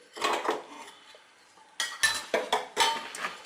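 Metal plates of a jantikalu press clinking and rattling as they are handled, a scatter of close, sharp metallic knocks and clatters.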